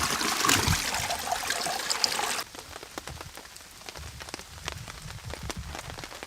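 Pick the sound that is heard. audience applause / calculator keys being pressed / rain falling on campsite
rain falling on campsite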